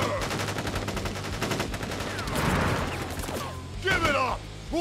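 Soldiers' volley of gunfire in Crisis Core Final Fantasy 7 Reunion, rapid rattling shots mixed with game sound effects and swooshes, with voices shouting over the fire.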